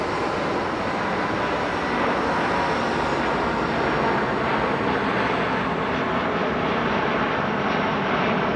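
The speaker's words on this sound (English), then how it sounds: "we have landings, line up, and we have a takeoff" Jet airliner taking off at Frankfurt Airport, a loud continuous broadband engine roar that holds steady and slowly fades in its upper range, with no talk over it.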